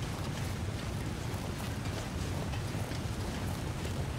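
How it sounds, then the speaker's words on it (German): A waterfall in The Long Dark gives off a constant broadband rushing roar, steady and moderately faint, with no voices over it. "das klingt nach einem Wasserfall"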